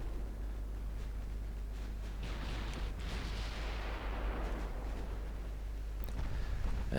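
Naval gunfire from seven-inch guns in Ultimate Admiral Dreadnoughts, heard as deep rumbling booms over a constant low roar of sea and engine noise, with a sharper report near the end.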